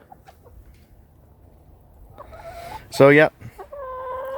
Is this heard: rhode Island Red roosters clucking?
yes